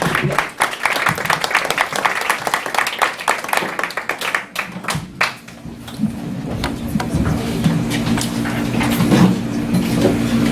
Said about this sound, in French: Une bonne main d'applaudissements pour Yvon Jean.